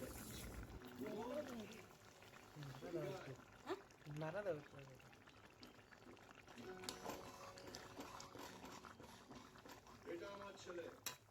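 Fish curry with vegetables simmering in a pot, a faint bubbling and soft liquid burble with low background noise and no clear talk.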